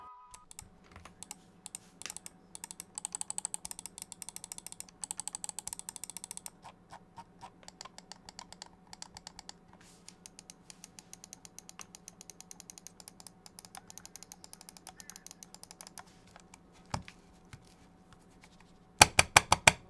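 An Xtrfy mouse scroll wheel clicks in quick, evenly stepped bursts, close and crisp, with short pauses between runs of clicks.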